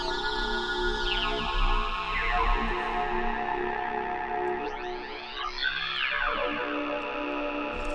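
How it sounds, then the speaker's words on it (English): A Rob Papen Blade synthesizer played through a Vox filter gives a sustained, buzzy tone whose vowel-like sweeps rise and fall across eight seconds. It carries a chorused, echoing character and plays alone at steady volume. "This is a Vox filter."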